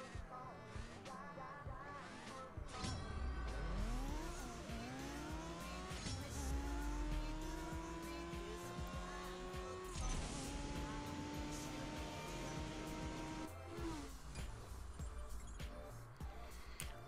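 A Porsche 911 GT3R race car in CSR Racing 2 roars through a drag race, its engine pitch climbing and snapping down with each gear shift in a series of rising sweeps, loud and up close.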